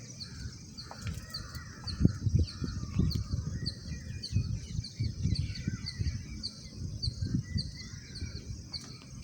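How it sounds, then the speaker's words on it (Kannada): Many birds, crows among them, call and chirp across a terrace garden in Bangalore in the early morning, with repeated caws and scattered tweets at middle distance over a low rumble. "ಎಷ್ಟೊಂದು ಪಕ್ಷಿಗಳೆಲ್ಲ ಇದ್ದಾವೆ. ಸೌಂಡ್ ಕೇಳಿಸ್ತಾ ಇರ್ಬೋದು ನಿಮಗೆ"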